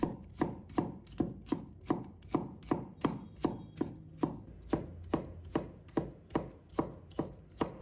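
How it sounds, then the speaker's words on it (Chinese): A knife slicing cucumber into strips on a cutting board, with sharp, evenly spaced chops, about two per second, loud and close with a short thud on each stroke and no voices. "把它切成片， 再切成丝"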